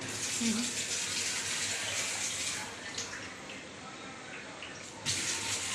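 Water pours in a steady rushing stream into a pressure cooker holding rice for fried rice, close and continuous, easing briefly before surging again at the end.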